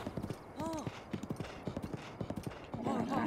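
Rapid clip-clop of horse hooves in a steady galloping rhythm, with a brief whinny and a voice speaking over it, in the video game The Legend of Zelda: Breath of the Wild.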